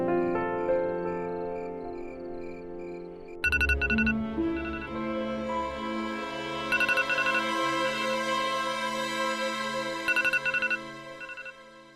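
A telephone ringing during a call, an electronic ringtone pattern repeating in bursts over a sustained musical tone background, fairly loud and steady with no speech.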